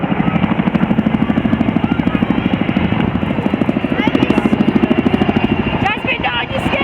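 A Chinook helicopter flies in an Armed Forces Day air display at Cleethorpes, its twin rotors beating in a loud, fast, steady rhythmic thump over heavy engine roar, with crowd voices faintly underneath.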